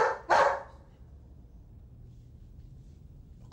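A pet dog gives a single loud, sharp bark close by indoors, then the room falls to quiet background hiss.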